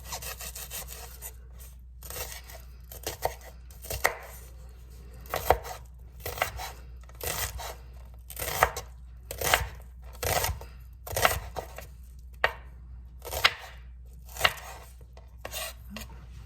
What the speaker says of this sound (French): Je vais aussi couper de l'échalote.